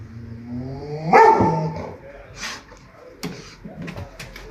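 A guard-training dog lets out one loud, close bark, followed by a few quieter, shorter barks and scuffling sounds in a tense encounter.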